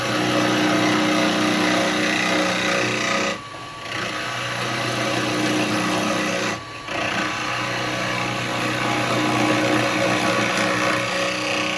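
A wood lathe spins a yew vase blank with a constant whirring motor hum and a dense scraping, chattering texture, broken by two brief pauses where the cutting tool lifts away.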